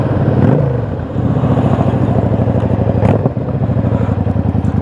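A Yamaha V Star cruiser motorcycle idling nearby, its engine giving a steady, loud, lumpy throb with a brief rev blip near the start.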